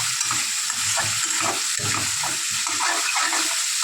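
Spices stir-fried in a pan for a fish head curry made with taro, steady sizzling and frying hiss with irregular scraping stirs throughout, close and loud, no voices.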